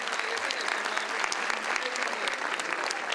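Young people applauding in a large hall, a dense, steady burst of clapping from a crowd heard close and continuous for the whole stretch.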